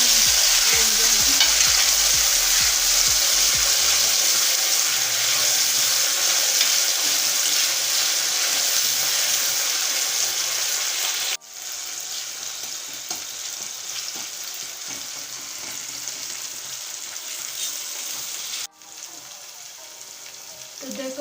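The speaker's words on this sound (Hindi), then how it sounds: "टमाटो को भी अच्छे से भून लेंगे" Tomatoes frying with browned onions in a pan for a market-style egg chutney, giving a steady, close sizzle with stirring scrapes throughout and occasional low clatter early on, with no talking.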